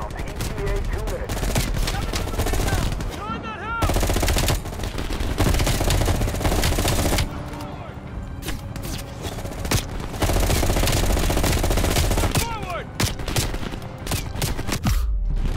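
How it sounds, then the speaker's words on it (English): Dense, continuous gunfire in Call of Duty: Black Ops Cold War, with rapid automatic bursts and overlapping shots, loud and chaotic throughout, with brief lulls and whistling tones mixed in. "you followed the road right toward the sound of gunfire"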